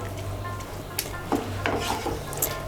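Mixed dal being stirred with spices in a hot pan for tadka: a steady low sizzle under soft scraping strokes of a spoon, with a few light knocks against the pan, close and continuous, no voices.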